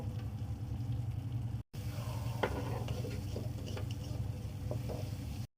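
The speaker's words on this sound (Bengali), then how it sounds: "পেঁয়াজটা ভাজা হয়ে গেছে" Onion frying with a pinch of salt in a pan for a light tilapia curry, giving a steady low crackling sizzle with a few sharper pops, broken by a brief cut near the start.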